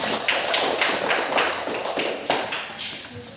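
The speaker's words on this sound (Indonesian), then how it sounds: "Tepuk tangan dulu buat teman-teman." An Indonesian primary classroom gives a short round of applause for classmates. Many small hands clap fast and close in a loose burst, then thin out and fade over a few seconds, with no talk.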